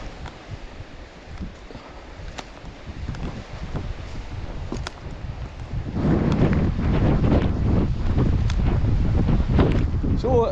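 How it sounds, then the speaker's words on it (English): Breezy wind gusts buffet the microphone on a woodland walk among boulders, a steady rumbling roar that swells louder in the second half with faint rustling beneath. "So as you can hear, it's a bit breezy, but it's keeping it nice and cool"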